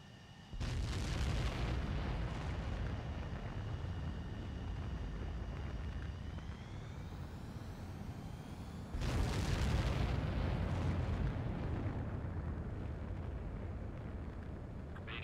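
A video-game jet fighter takes off, its engine a loud, continuous roar that surges again midway, rising into a heavier, sustained blast.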